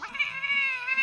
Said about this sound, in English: This is the most annoying cat ever.